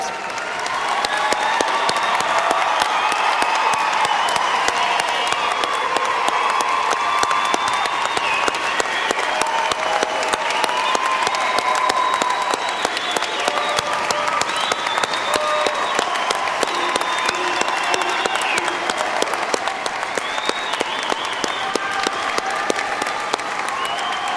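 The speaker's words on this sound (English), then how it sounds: "Okay, round of applause." The audience at the Front Range Community College Larimer Campus 2014 graduation ceremony applauds, with sustained, dense clapping and a few cheers holding steady for over twenty seconds.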